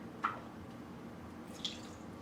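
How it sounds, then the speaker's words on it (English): Two tablespoons of water added to a bowl of power bowl dressing: two faint, brief drip-like splashes about a second apart over a quiet kitchen background. "we're gonna add in 2 tablespoons of water"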